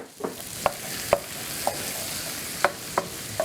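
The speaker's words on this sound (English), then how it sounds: "We're going to dump them in there with our butter." Chopped vegetables sizzle in butter in a pan for Cajun seafood and andouille mac and cheese. A steady fry hiss runs throughout, broken by a spoon scraping and clicking against the pan at irregular intervals.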